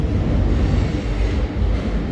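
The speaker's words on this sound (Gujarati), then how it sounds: "જો 3 એન્જિનની ટ્રેન છે અને પાછળ આખી માલગાડી." A very long freight train hauled by three engines rolls past close by, a loud continuous rumble and roar of wagons on the rails, steady for the whole stretch with no talking.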